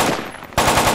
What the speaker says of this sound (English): I shot the infantry.